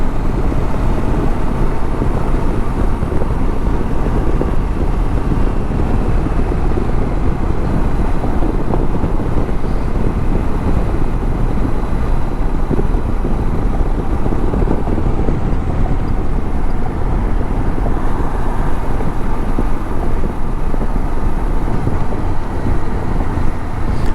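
A Honda CB500X motorcycle rides on a humid morning commute in Houston, heard as a constant loud rumble of engine and road mixed with heavy wind buffeting at the microphone, unbroken from start to finish.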